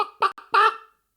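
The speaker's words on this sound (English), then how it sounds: "So I already have a chicken sound is playing set up." Chicken clucking effect triggered in software: three quick squawky clucks in just over a second, clear and close, with no other sound around them.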